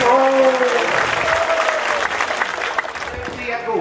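An audience at a devotional birthday celebration during an annual festival claps steadily and loudly, sustained applause with voices talking and a sung tone over it.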